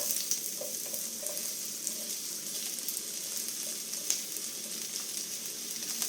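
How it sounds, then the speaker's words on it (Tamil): Onion frying in melted oil, with a continuous bright crackling sizzle and occasional faint stirring clicks, close and steady throughout, with no talking. "இப்போ எண்ணெய் உருகிவிட்டது இதனுடன் வெங்காயத்தை சேர்ப்போம்"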